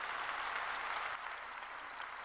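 A church congregation claps hands together in a dense, even burst of applause that holds steady and then eases slightly in level, with no voices over it.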